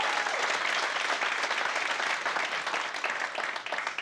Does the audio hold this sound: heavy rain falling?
no